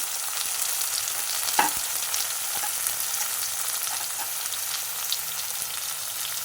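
Brinjal and onion frying in hot oil, a steady dense sizzle throughout with a single soft knock partway through, close and even, no talking.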